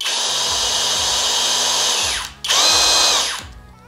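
A HOTO cordless brushless drill runs at close range with a loud steady whine for about two seconds, spins down with a brief dip, then revs up again and winds down near the end.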